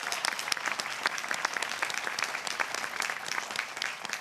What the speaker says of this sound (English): And now let's applaud these alumni once more.